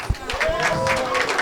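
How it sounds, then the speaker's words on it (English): A crowd applauds at a billiards amateur championship finals award ceremony, steady clapping filling the room as an announcer's voice carries over it. "Big round of applause."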